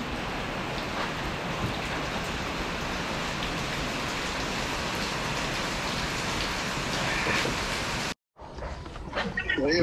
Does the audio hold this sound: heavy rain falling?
yes